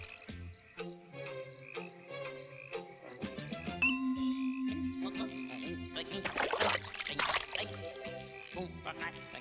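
Frog croaks ring out in a bouncy, rhythmic pattern set against a musical backing with a singing voice, the croaks growing denser and busier toward the end.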